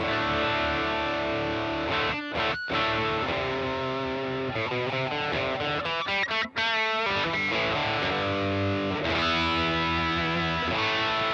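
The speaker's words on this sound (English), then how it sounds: "So that's the overdrive." A heavily overdriven electric guitar, overdrive pedal gain maxed, plays thick, saturated chords and riffs, loud and sustained, with a couple of sharp breaks and no voices.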